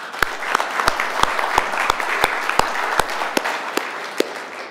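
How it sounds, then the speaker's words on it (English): An audience at the International Forum on One Korea 2018 in Washington D.C. gives a round of applause, with loud, close individual claps standing out over a dense, steady wash of clapping. "Let's give all of them a round of applause."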